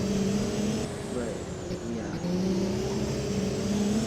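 Car engine in the Driving Empire racing game, a steady droning rev that holds under continuous commentary, dipping briefly before climbing again.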